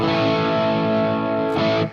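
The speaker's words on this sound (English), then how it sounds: "So stereo delay, stereo reverb, and stereo chorus going on." Sustained distorted electric guitar chord ringing out with a wide, shimmering stereo chorus effect plus stereo delay and reverb, loud and alone, fading at the very end.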